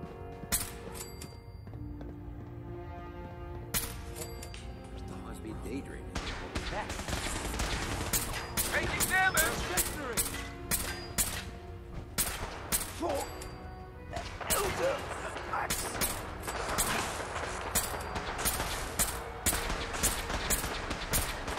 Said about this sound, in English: I can't even see who's shooting, but I'm firing over there